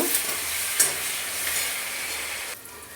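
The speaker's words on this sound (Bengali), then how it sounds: "আমি আর একটু বেগুনটা ভেজে নেব" Brinjal fries in hot oil with salt and turmeric, a steady soft sizzle with faint stirring scrapes, continuous and fairly quiet, fading slightly at the end, no talking.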